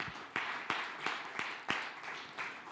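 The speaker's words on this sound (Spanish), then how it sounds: "Dele palmas al que vive" A church congregation claps along in a steady rhythm, each beat a soft, roomy burst of many hands, quiet and without speech over it.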